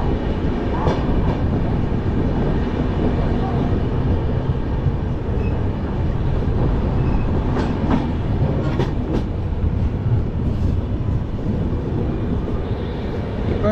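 An AC double-decker train rolls steadily after pulling out of a station near Bengaluru, a loud continuous rumble with rhythmic clickety-clack of wheels over rail joints, heard from inside the coach.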